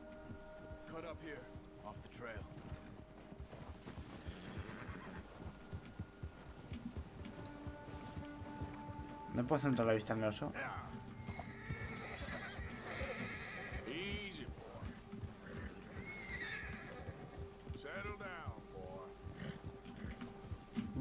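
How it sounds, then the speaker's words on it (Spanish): Horse neighing and hooves clip-clopping in Red Dead Redemption 2, a loud whinny standing out mid-clip over steady game sounds, with a bear nearby and someone talking throughout. "Porque los caballos se asustan"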